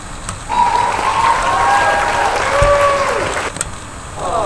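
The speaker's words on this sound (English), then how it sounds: "there's a lot of sound effects that you can use for your video editing, like applause" A stock applause sound effect plays, a crowd clapping at moderate volume with tonal whistling or musical sounds layered on top throughout.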